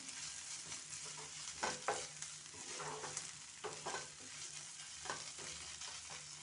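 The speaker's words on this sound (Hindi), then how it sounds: "जब तक प्याज अच्छे से पूरी तरह से भुनेगा तब तक ये भी भुन जाएगा साथ में" Steady sizzling of onions frying in a pan, with occasional scraping and stirring clatters over a continuous crackling hiss.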